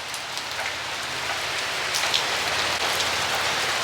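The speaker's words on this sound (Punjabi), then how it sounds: "ਤੁਹਾਨੂੰ ਮੀਂਹ ਦੀ ਆਵਾਜ਼ ਵੀ ਸੁਣੀ ਜਾਣੀ ਆ" Steady, close rainfall patters on a surface with dense hiss and occasional louder drips, no voices, at Shirakawa-go, Japan.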